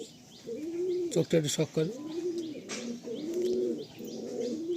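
Racing pigeons in a loft give low, rolling coos and a few chirps, close by, with brief wing flaps, while someone talks over them.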